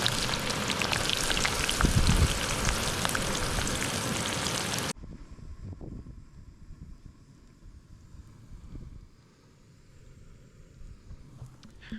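Light rain falling outdoors in the Missouri River Breaks: a dense, loud hiss of steady rainfall for the first five seconds, then the patter drops off to a much quieter, scattered trickle with faint background noise.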